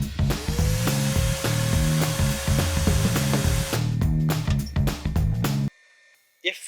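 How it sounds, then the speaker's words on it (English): Shop vac sucking debris from underneath a BBQ grill, a loud steady motor whine with rattling clatter of dirt through the hose for most of the stretch, then cutting off abruptly near the end. "Get in there with the shop vac."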